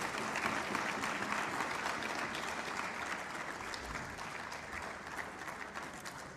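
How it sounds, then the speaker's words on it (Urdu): Audience applause at a lawyers' conference in Lahore welcoming a speaker, a dense, even roar of clapping that sounds somewhat distant and sustained throughout. "ذرا تالیاں بجا کے ان کا استقبال ہونا چاہیے"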